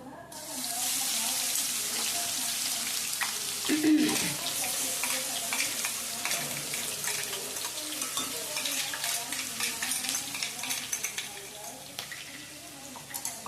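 Coarse ginger, garlic and green chili paste sizzling in hot oil in a pan for paneer bhurji: a bright, continuous close hiss with a spatula stirring and scraping now and then, alone without talk.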